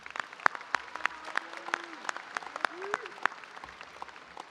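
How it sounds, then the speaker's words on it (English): Applause at a high school graduation ceremony: a scattered, moderately distant crowd clapping with sharp individual claps standing out, under faint voices in a large venue. "Let's give them a round of applause."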